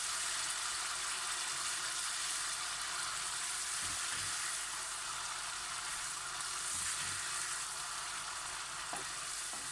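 Tomato paste fries steadily in a pan, a continuous bright crackling sizzle with a few soft stirring knocks, and no one speaking.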